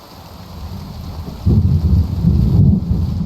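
A thunderstorm in the video game Kingdom Come Deliverance II brings a steady rain hiss, then a deep roll of thunder swells in and rumbles on loudly.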